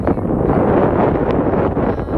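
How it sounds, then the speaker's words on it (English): Loud, continuous wind buffeting the microphone, a dense low rumble with no pauses. "I know it's kind of windy."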